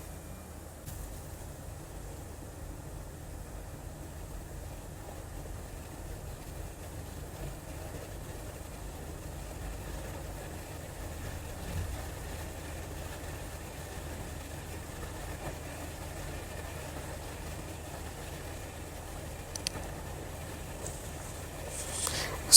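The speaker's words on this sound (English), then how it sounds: "if they are matching, you go ahead and sew it all the way down" A sewing machine stitching a kaftan seam, a steady low mechanical whir running continuously and evenly without pauses, fairly faint and close, with no talk.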